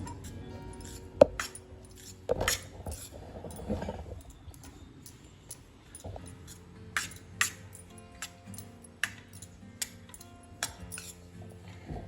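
Flour being stirred continuously in a pan over a medium gas flame, with repeated sharp clinks and scrapes of a metal spoon against the pan at irregular intervals, close, quiet between strikes, and no talk.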